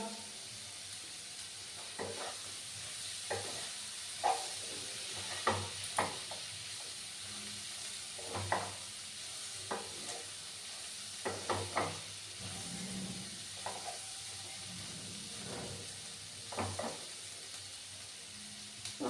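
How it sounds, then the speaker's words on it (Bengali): Bottle gourd peel fries in a pan with a continuous close hiss of oil, broken by repeated scraping knocks of a spatula stirring it at irregular intervals. "মিনিটের মতো আমি একটু ফ্রাই করে নিচ্ছি"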